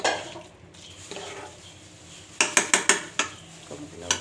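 Cooked sweet pumpkin being scooped out of a pan for a fried pumpkin dish, a quick run of five or six sharp close scraping clinks of utensil on metal, with quieter scrapes before and one more after.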